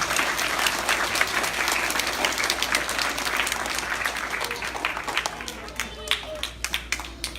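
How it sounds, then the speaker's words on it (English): Sustained applause and clapping from a school crowd at a kids' event honouring police officers and firefighters, steady and fairly loud throughout with a few cheers and voices mixed in. "how about a big Woodcrest round of applause for your community heroes?"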